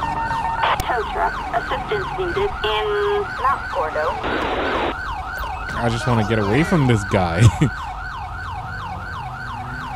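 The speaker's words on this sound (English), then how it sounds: "At least move if you're going to keep the siren on like that." A police car siren from the GTA 5 LSPDFR mod, an Illinois State Trooper patrol, wails in a steady repeating up-and-down cycle throughout, loud and close, with someone speaking briefly over it and short bursts of other in-game noise.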